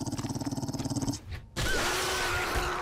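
Dogs growling in the survival video game 7 Days to Die: a steady pulsing growl for about a second, a brief gap, then a louder, denser snarling and rumbling that continues to the end.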